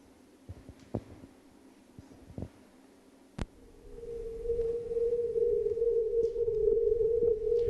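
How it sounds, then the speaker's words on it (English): A few scattered clicks and thumps, then a steady buzzing synthetic drone from a data-bending synthesizer swells and holds with a gritty, distorted texture until the end. "So what you hear is the result of the synthesizer"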